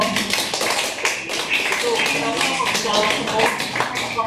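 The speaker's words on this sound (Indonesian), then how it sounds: "tepuk tangan semua teman-teman ya, kelompok" Group applause at a virtual graduation for an online learning class: a scattered run of claps and taps from participants over a call, steady throughout, mixed with talking.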